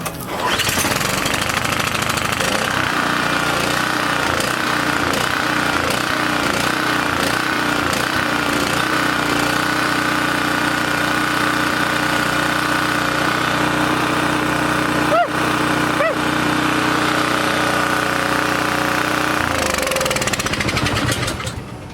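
Small gasoline engine, likely a lawn mower type, runs loud and close with a steady rattling, buzzing drone for about twenty seconds before cutting off near the end.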